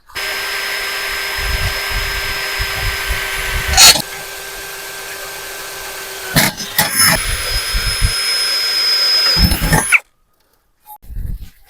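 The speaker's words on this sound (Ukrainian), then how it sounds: "шурупокрутом зараз його так змістю попросверлюю і прикрутю" A cordless screwdriver whirs steadily while drilling and driving screws into a grain conveyor, motor pitch rising and falling through several bursts, with sharp knocks between runs before it cuts off into near silence.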